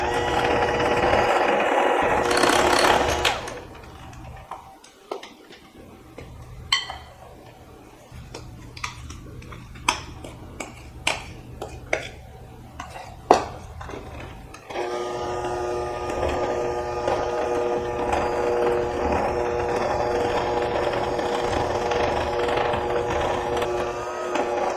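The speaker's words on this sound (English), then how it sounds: "I always pull out my hand mixer for my banana bread" A hand mixer whirs through banana bread batter in a steady, buzzing drone, running for a few seconds, stopping amid scattered clicks and knocks, then starting again and continuing evenly to the end.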